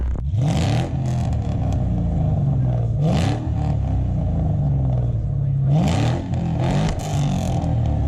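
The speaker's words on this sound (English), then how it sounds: "Let's see what this exhaust sounds like over here real fast." A Saleen Mustang's exhaust rumbles loudly and revs up in repeated bursts at a car show, the engine note rising and falling several times close by.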